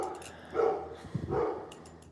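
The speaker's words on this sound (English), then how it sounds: "Oh, my dog's here." A dog barking nearby in a room, two muffled, moderately loud barks about a second apart, with no talking over them.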